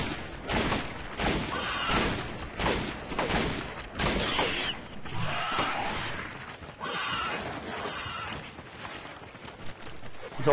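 Resident Evil 5 gameplay with repeated gunfire, a string of sharp shots and crashing impacts in irregular bursts, some spaced and some rapid, at moderate loudness with no clear speech.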